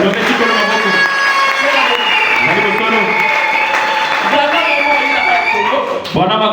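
A church congregation applauds and cheers loudly and without a break, a dense wash of clapping blended with voices and what sounds like singing, easing off briefly near the end.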